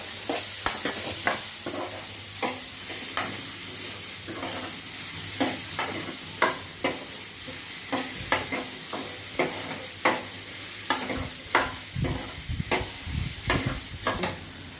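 Beetroot curry being fried and stirred in a pan, a steady sizzle punctuated by regular spatula scrapes and knocks against the metal, close up and without talk.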